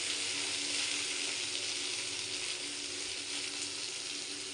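Food fries in a pan during home cooking, giving off a continuous, fairly soft sizzle with faint stirring, and no voices are heard.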